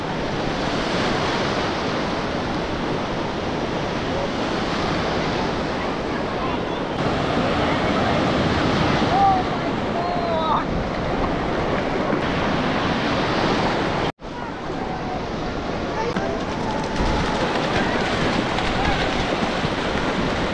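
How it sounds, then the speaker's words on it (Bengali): Sea waves break continuously at Bakkhali beach, a loud full roar of surf with wind buffeting the microphone, broken by one sudden brief cut partway through, while voices are faintly mixed in. "আর আজকে দেখো ঢেউ কেমন আছে।"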